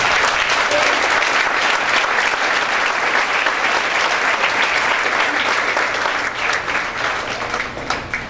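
A church congregation breaks into sustained applause, a dense wash of many hands clapping at close range for several seconds and tapering slightly toward the end.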